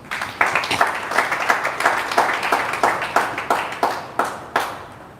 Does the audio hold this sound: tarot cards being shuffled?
no